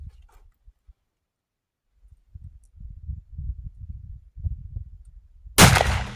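A single sharp shot from a 45-90 rolling block rifle bursts out suddenly at the very end, loud and close, after a stretch of low rumbling handling noise.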